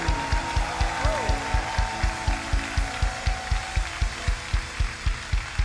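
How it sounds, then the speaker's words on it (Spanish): A church congregation claps steadily in time, about four beats per second, over soft worship music with sustained tones, the rhythmic claps staying even and moderately close throughout. "Dale ese aplauso al Señor."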